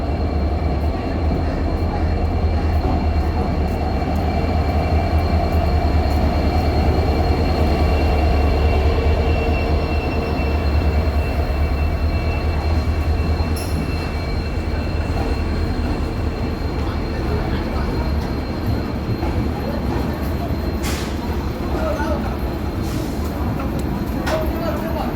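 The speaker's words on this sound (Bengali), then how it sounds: "এই ট্রেনটা বিস্তারডোম" A train rumbles at platform 3 of a railway station. The low rolling roar holds steady for about 25 seconds, with faint metallic squeals and brief clanks on top and some indistinct background voices.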